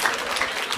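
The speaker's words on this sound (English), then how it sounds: "Let's clap for him." Brief burst of audience clapping at a school climate-action event, a short, fairly loud patter of many hands.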